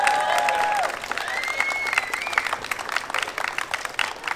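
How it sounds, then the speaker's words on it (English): Audience applause at a 2023 Simbang Gabi Christmas gathering: steady clapping from a crowd swells and carries through to the end, with a few thin tonal whistles over it early on. "Let's show them love and give them a round of applause."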